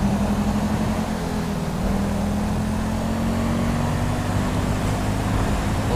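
A Suzuki Alto in GTA 5 drives on the road with a steady, droning low engine hum that rises slightly in pitch as it pulls forward, close and continuous with no talk.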